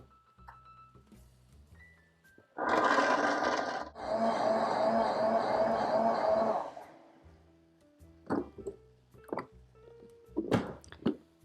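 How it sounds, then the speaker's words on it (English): A kitchen blender whirs loudly for about four seconds with a brief stutter partway through, blending a creamy vegan cheese sauce, then cuts off, leaving a few soft clinks and taps. "now we're just gonna blend this until it is really super"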